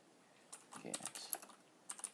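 Quick bursts of keystrokes clatter on a computer keyboard, irregular close taps in short clusters with a brief pause between, fairly quiet, as a command is typed into a terminal.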